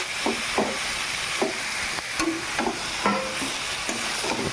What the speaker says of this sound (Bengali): চলো সুন্দর মতো আগে মিশিয়ে নিই।